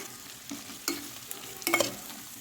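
Tomato stir-fried with potato and masala for aloo pulao gives a soft sizzle, punctuated by several quick spoon scrapes and knocks against the pan, close and fairly quiet without speech.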